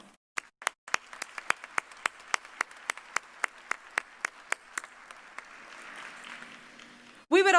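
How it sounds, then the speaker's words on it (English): Applause for the faculty at a fall university commencement ceremony: a small group of hands clapping in a steady, evenly spaced rhythm of about twenty distinct claps, fairly faint and roomy, ending with a sudden louder burst. "Please join me in saluting our faculty with a round of applause."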